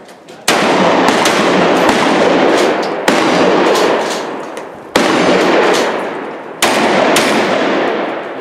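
Four loud, sharp tactical shotgun blasts at intervals of about two seconds, each slamming in close and ringing out into a long decaying echo across an outdoor range.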